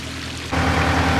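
Water and green slime drain through a siphon hose: a quiet hiss, then a sudden louder steady gurgling rush as the flow picks up, continuing close by.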